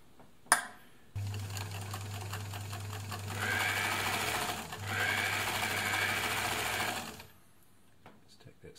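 An ELNA Supermatic sewing machine stitches steadily for several seconds with a fast, even mechanical whir and hum, close and fairly quiet, with a brief pause mid-run while someone talks over it.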